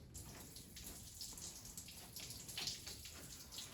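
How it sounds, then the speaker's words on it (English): Coolant water runs steadily out of an open radiator petcock on a 1978 Chevrolet Camaro, splattering onto a garage floor in a continuous, moderately close trickle with no talking. "All that running water you guys are hearing is that petcock on the rad is open"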